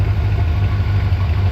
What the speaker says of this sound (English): Got the IAC all tuned up and the idle down to about 700 RPM or so